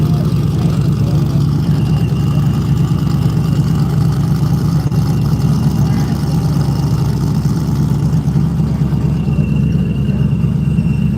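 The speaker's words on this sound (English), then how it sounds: "Sounds like some turbo action in the BMW." A BMW running a turbo engine at a Wyoming drag strip, heard as a steady low engine rumble and idle drone that holds loud and unbroken throughout.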